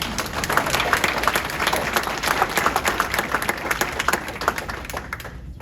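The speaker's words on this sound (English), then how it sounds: "Humble round of applause for Mr. Gonzalez." Audience at a board of education meeting claps in a steady round of applause, dense and close, tapering off toward the end.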